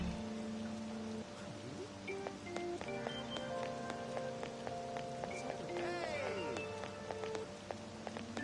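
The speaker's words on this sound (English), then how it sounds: "I don't like all this rain." Steady rain patters down in the video game Persona 5 Royal, a soft continuous hiss with scattered chimes and tones layered over it.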